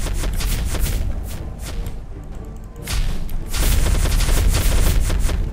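Tank boss firing at the player in the Roblox game Nuke Simulator, a dense stretch of loud gunfire and booming blasts that pauses briefly midway, then swells again louder and continuous.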